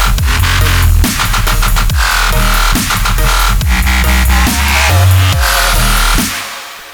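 Heavy FM-synthesized bass, loud and alone, with gritty growling tones that shift rhythmically over several seconds, lightly rounded by reverb before fading out at the end.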